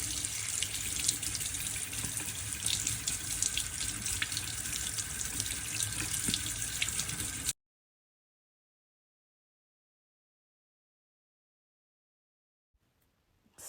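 Water runs steadily from a tap for several seconds with faint scrubbing of a watercolour paint tube with an old toothbrush mixed in, then it stops and near silence follows.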